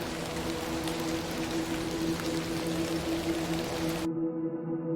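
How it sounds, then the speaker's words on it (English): Steady rain in a video game falls in a constant hiss with a low hum beneath, then cuts off abruptly near the end, leaving only faint tones. "A little rain is no bother."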